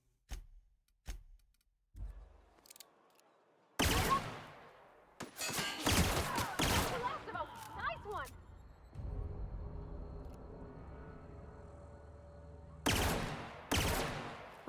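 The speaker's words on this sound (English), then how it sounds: "so it's a burst fire weapon" Burst-fire weapon in The Outer Worlds, with several sharp separate shots at the start, then louder rapid bursts with ringing mechanical tails and echoes, and two more strong bursts near the end.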